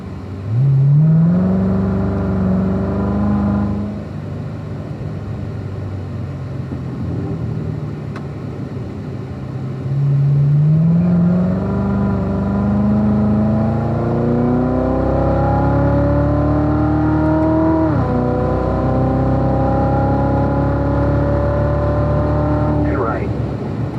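A Corvette accelerates through lead/follow laps at the Spring Mountain track during an owners' school, its engine note climbing in pitch through repeated rising pulls and shifts. An instructor's voice talks over the steady, loud engine.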